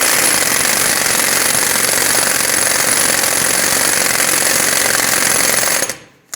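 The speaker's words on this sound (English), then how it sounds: "I'm going to bottom this out with my air gun" An air impact gun drives the axle nut home on a 2007-2014 Chevrolet Silverado 2500 HD front hub, a loud continuous close-up rattling hammer for about six seconds before cutting off abruptly.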